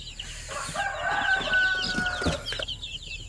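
Chicks near an incubator chirp in rapid, high overlapping peeps, mixed with some lower clucking from nearby fowl, fairly close.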